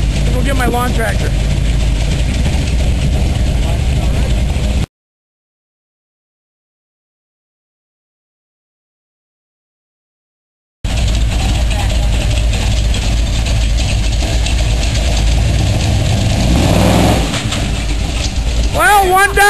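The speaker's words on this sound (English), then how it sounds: "Tractor." A tractor engine idles low and steady, rumbling close by, with a long stretch of silence in the middle before the droning resumes.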